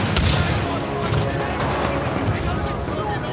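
Dense supporting gunfire in the video game Titanfall 2, a loud, continuous barrage of rapid shots and booming blasts that never lets up, with a voice faintly woven into the battle noise.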